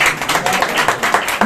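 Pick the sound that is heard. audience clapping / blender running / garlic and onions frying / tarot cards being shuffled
audience clapping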